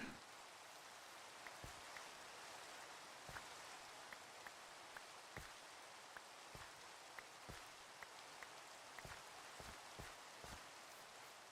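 Steady rain falls outside, a faint continuous hiss with scattered sharp drips and taps landing irregularly throughout, and nobody speaks.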